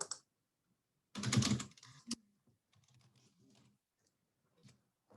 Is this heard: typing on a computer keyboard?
yes